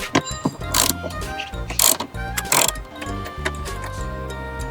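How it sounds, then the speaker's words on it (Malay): A 10 mm screw being undone from the centre of a Proton Iriz dashboard, heard as a series of sharp ratcheting clicks in short bursts with brief metallic rattles, close and fairly loud. "Tengah ni ada satu skru 10 kita kena buka."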